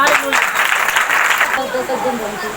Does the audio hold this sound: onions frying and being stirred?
no